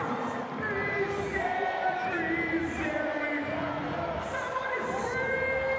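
A cricket stadium crowd at a Windies vs England one-day international cheers and applauds in a steady, dense roar at moderate distance, with shrill whistles and raised voices above it.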